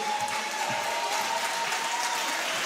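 Steady audience clapping at a Nigerian Bar Association Lagos Branch Law Week event, a dense, even round of applause from a hall crowd sustained throughout with no pauses.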